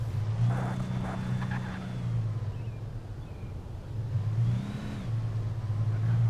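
Cars approaching in the video game Alan Wake, with engine hums swelling as each vehicle draws near and passes, one after another, then a second rising drone that builds toward the end.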